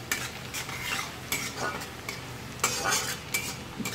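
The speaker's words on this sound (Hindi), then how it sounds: "प्याज को थोड़ा फ्राई कर लेते हैं।" Onions fry in hot oil in a kadhai, a close, bright sizzle broken by repeated scraping stirs of a spoon against the metal, bursts recurring every half second or so with no talk.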